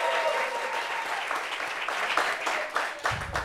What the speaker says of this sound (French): Applaudissements jusqu'à ce qu'il s'asseye